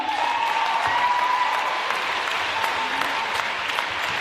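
Crowd applauding at the 2018 Netball NSW under-20s grand final on the show court, North Shore United versus GWS Fury, a steady dense wash of clapping sustained throughout in a large venue.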